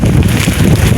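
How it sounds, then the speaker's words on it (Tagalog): Strong storm wind at sea beats hard on a microphone aboard a fishing boat, a loud continuous roar with gusty buffeting and no break. "Lakas ng hangin."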